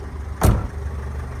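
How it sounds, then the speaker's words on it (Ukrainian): A cold 2.0-litre Renault Trafic passenger van engine idles steadily at low volume, with one short louder thump or knock partway through. "Рівна робота мотора."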